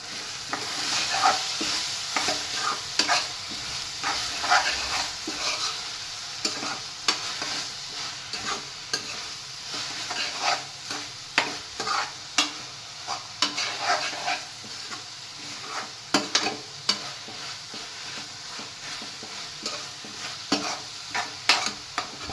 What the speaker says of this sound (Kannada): ಸ್ವಲ್ಪ ಅರಿಶಿನ ಮತ್ತು ರುಚಿಗೆ ತಕ್ಕಷ್ಟು ಉಪ್ಪನ್ನು ಹಾಕೊಂಡು ನೀಟಾಗಿ ಮಿಕ್ಸ್ ಮಾಡ್ಕೊಳ್ಳೋದು